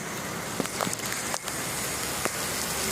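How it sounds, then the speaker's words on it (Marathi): Steady rain falling, a continuous hiss with scattered drip and patter ticks, no voices. "बघा कसा पाऊस पडत आहे आमच्या इकडं"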